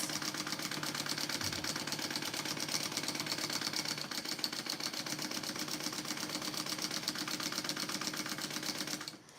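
A sewing machine stitches a quarter-inch seam allowance for packing pods. It gives a steady, rapid mechanical chatter close by for about nine seconds, then stops abruptly.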